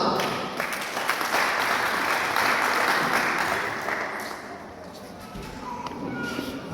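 Applause from a crowd at a graduation ceremony where church pastors receive doctoral degrees: a broad, sustained clapping that swells, then eases off after a few seconds, with faint voices mixed in.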